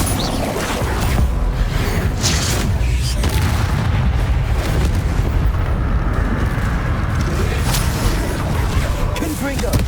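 Bombarda blast spells from Hogwarts Legacy pound away as dense, loud booming explosions with rumbling debris that fill the whole stretch without pause, mixed with a layer of game combat noise.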